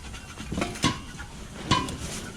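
Ceramic dishes pulled from a dumpster being handled: two sharp clinks and clatters of crockery knocking together, with softer shuffling and scraping between them, close by.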